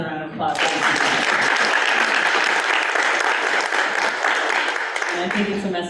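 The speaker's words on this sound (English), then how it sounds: "please give her another round of applause." Audience applause at a club's general meeting, a full, sustained round of clapping that rises quickly and holds for several seconds, with speech heard briefly at the start and end.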